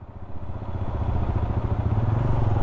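A motorcycle engine on a steep mountain road runs loud and close with a rough, pulsing mid-low rumble that rises slightly in pitch as it works through the gears.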